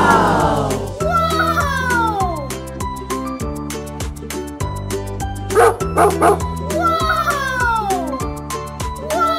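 Cartoon dog barks and cat-like meows sound in a kids' learning game, set over a bouncy repeating musical backing with bright chimes, loud and close.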